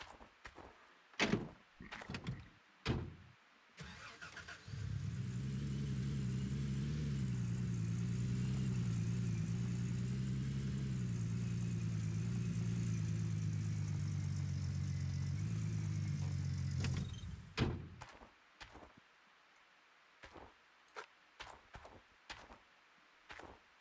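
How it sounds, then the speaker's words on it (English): A truck in the video game Gold Rush rumbles steadily for about twelve seconds at a loud, even drone, framed by sharp clicks and thumps before and after the engine run. "So I guess we could just drive the truck back up here."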